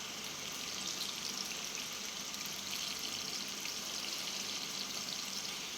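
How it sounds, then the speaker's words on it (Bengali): Chopped garlic, black cumin and two green chillies sizzling in hot oil in a wok for a Bengali water lily dish, a steady, close, continuous frying hiss with no talk. "তো প্রথমে আমি কড়াইয়ে তেল গরম করে নিয়েছি। এরপরে আমি দিয়ে দিলাম সামান্য রসুন কুচি"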